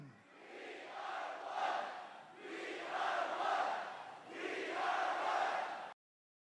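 A large political rally crowd chants a slogan in three long rising-and-falling waves, sounding somewhat distant and roomy, with no other voice over it.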